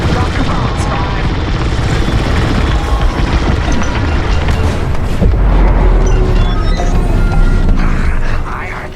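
Bombs exploding in the Star Wars Squadrons space combat game: loud, sustained rumbling blasts with crackling debris over a constant engine roar, swelling near the end before cutting off.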